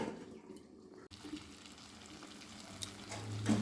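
Pumpkin curry simmering covered over a low gas flame, giving a soft, steady sizzle and bubbling throughout, with one brief clunk early on and a slightly louder hiss near the end.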